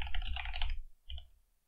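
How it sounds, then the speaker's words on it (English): Computer keyboard keys clatter in a quick, dense run of taps during a software test coding session, then a brief second tap follows after a short pause, soft and close. "and I'm going to type,"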